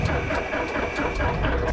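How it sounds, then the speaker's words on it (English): A Cessna 172 engine in a flight simulator turns over while being started, a loud, steady mechanical drone with a regular pulsing beat throughout. "Now the trick is to roll the engine to start"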